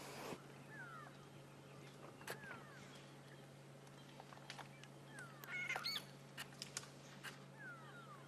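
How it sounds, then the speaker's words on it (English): Grey go-away birds, also called grey lories, give scattered nasal calls across the African bush at sunrise in Sabi Sand. The calls come mostly from a distance over a faint steady hum, and other bird chirps are mixed in. "You may just be able to hear the sound of the grey lory or the grey go-away bird going where all around us"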